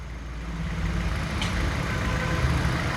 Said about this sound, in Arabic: الموتور برضو مازال مستقر ما بيرعش